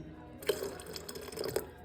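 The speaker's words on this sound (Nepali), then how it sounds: "मैले ठिक्कको पानी हाल्दैछु, धाराको पानी।" Tap water splashes into a vessel while ghee and butter are being made at home, a short, close trickle with a few brighter drips and splashes, heard alone.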